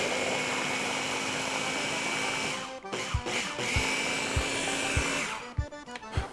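Electric blender whirring through lemon zest filling for king cake beignets, a steady motor drone for the first few seconds, then stopping and starting in short bursts with knocks and clatter.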